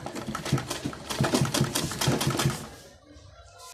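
A manual sewing machine stitches a shoe with a rapid, evenly spaced mechanical chatter up close for about three seconds before it stops.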